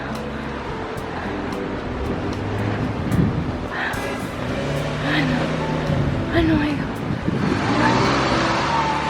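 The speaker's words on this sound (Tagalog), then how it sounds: "Oh, maangal yung makina nila," Car engines rev in busy San Francisco street traffic, a steady rumbling roar with a few louder rising surges, heard from an open-top tour bus while people talk over it.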